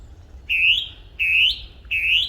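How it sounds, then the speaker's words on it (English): A song thrush whistles three clear rising phrases in a steady rhythm, close and bright against a quiet low rumble. "I've come across this beautiful songthrush"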